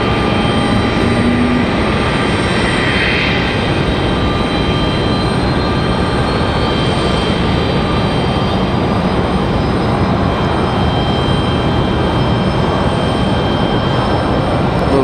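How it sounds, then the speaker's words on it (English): Executive jet taxiing at Raleigh Durham International Airport, a loud steady turbine whine and broadband roar holding constant for the whole stretch, with no voices over it. "exec jet on the move."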